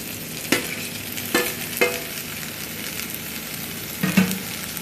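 A spatula scrapes and stirs boiled potato into fried onions in a pan for a Marathi red-chilli potato bhaji, with four separate scraping strokes over a low, steady sizzle and no talking.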